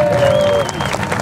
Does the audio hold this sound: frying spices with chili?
no